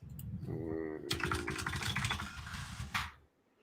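Fingers tapping quickly on a computer keyboard, a dense run of light clicks under people talking, with a low background hum throughout.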